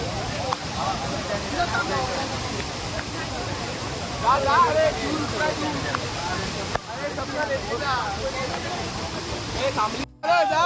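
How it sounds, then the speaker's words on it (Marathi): A waterfall at Raigad fort roars steadily, a broad continuous rush heard up close. Voices speak over it at times. "रायगडचा वॉटरफॉल बघा बेस्ट आहे बाकी वॉटरफॉल बघायची गरजच नाही पडणार ओरिजिनल वॉटरफॉल"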